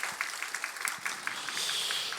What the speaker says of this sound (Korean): 우리 다시 한번 하나님께 영광의 박수 올리도록 하겠습니다.